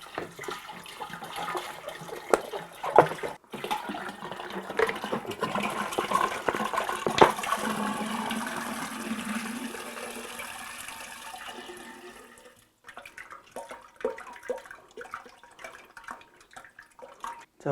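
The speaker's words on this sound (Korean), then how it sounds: "일단 요 물은 4리터 정도 넣어 볼게요." Around four liters of water pour steadily into a homebrewing vessel for mead, a continuous rushing splash with a few knocks, ending in lighter dripping and trickling.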